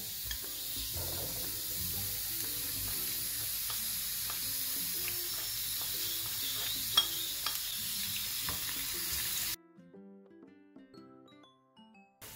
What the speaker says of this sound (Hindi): अब इसमें यह कटा हुआ प्याज और लहसुन शामिल करूंगी।